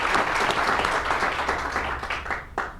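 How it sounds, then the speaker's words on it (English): Audience applause at a groundbreaking ceremony for a community college student center, a steady wash of many hands clapping that carries through the whole stretch and fades slightly near the end. "let's give them a big round of applause as well"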